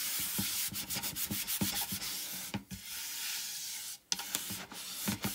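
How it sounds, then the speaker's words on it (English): Surface wax being rubbed onto a tiered tray piece, a soft, quiet, steady rubbing with rapid repeated strokes and brief pauses, heard alone. "I will go ahead and give this a quick waxing"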